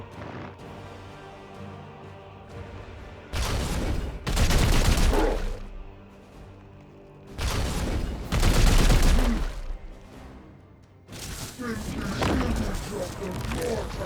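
Bursts of gunfire in the turn-based video game Warhammer 40,000: Chaos Gate – Daemonhunters, three loud separate volleys of rapid shots a few seconds apart, each rising sharply then fading, with quieter stretches and game ambience between them.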